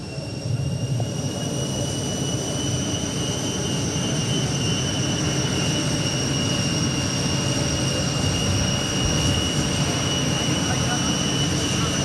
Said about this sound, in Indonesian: Pesawat yang membawa Raja Yordania dikawal pesawat tempur Republik Indonesia.